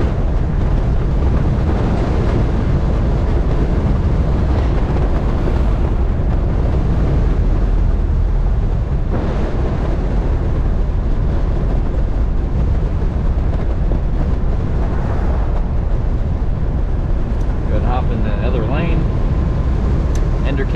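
A 1980 Shay Model A car cruises at about 40 mph, its engine and road noise a loud, steady low rumble buffeted by wind, with someone talking over it.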